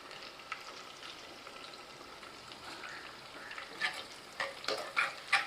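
Onion and garlic sauté in a pan with a soft, steady sizzle, quiet throughout and growing into brighter popping crackles near the end.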